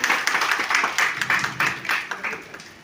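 An audience claps in uneven, overlapping bursts for honored women at a community felicitation event, a moderate round of applause heard fairly close, without talking.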